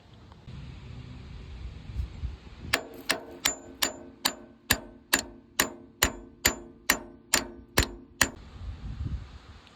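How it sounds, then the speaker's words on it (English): A roll pin being driven into a 1953 Ford Jubilee tractor, heard as about twelve crisp, ringing metal hammer strikes in a steady rhythm, close and clear over faint background hum. "I'm gonna put the roll pin through there"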